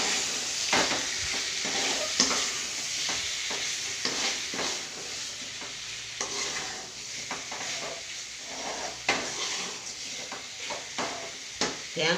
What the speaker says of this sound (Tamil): கொஞ்சம் நேரம் நல்லா கிண்டி விட்டு வேகணும்.